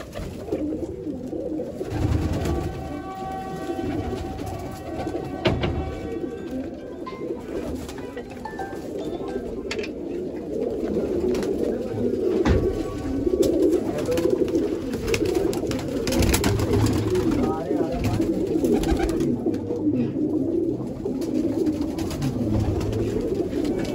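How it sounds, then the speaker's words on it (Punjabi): A flock of about twenty pigeons circling overhead, loud close cooing layered over a continuous background murmur, with rising and falling bird calls for the whole stretch and no clear speech. "ਉੱਪਰ 20 ਕਬੂਤਰ ਫਿਰਦੇ ਨੇ"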